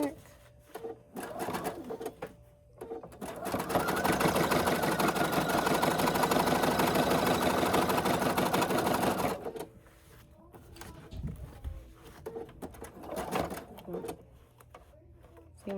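A sewing machine running a zigzag stitch along fabric edges while a small travel case is made, a steady close mechanical whir for about six seconds, with brief talk and handling sounds before and after.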